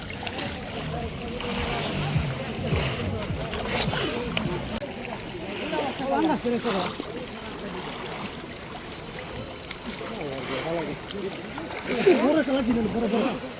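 A man dives into water during traditional polo fishing, with splashing and sloshing water close by while people talk and call out throughout.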